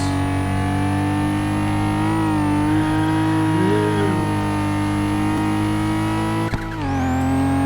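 A pink Nissan Skyline in the Kanjozoku street-racing video game holds a loud, steady engine drone with layered harmonics, pitch wavering slightly with throttle, then a brief sharp drop near the end.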